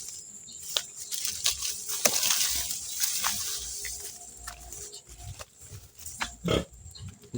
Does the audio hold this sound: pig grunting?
yes